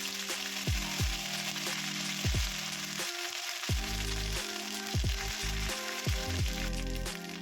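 Ginger and chili paste sizzling and spitting in hot oil in a pan, with bay leaf already in, as a lentil and bottle gourd dish is cooked; steady close frying crackle with repeated stirring scrapes throughout.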